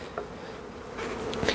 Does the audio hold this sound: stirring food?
no